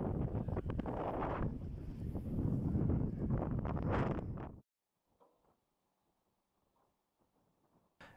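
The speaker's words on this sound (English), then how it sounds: "unfortunately it's pretty windy today" Strong gusty wind buffets the microphone on an open flying field for a long range drone flight, loud and continuous for about four and a half seconds before cutting off to near silence with faint scattered ticks.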